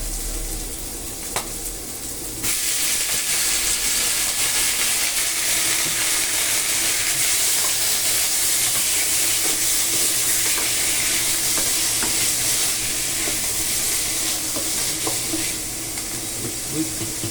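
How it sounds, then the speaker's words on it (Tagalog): Chicken with mushrooms sautéing in a pan, a steady close sizzle and frying hiss with occasional stirring scrapes throughout. "After we saute it, let's put our mushrooms"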